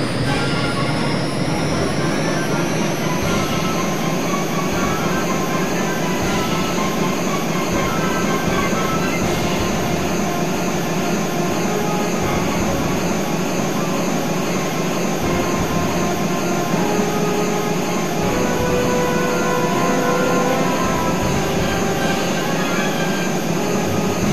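A Harrier's jet engine roars in jet mode in the flight game Eagle One: Harrier Attack, a loud unbroken drone with a high whine that rises early and then holds steady with no talk.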